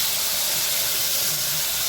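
Ground red chili frying in hot oil with cumin and curry leaves for a tamarind kadhi: a steady, close, bright hiss of sizzling that holds evenly without pause.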